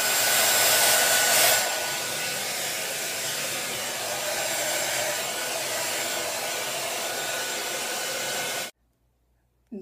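A hair dryer blows with a loud, steady whooshing roar, shifting slightly in tone early on, then cuts off abruptly near the end.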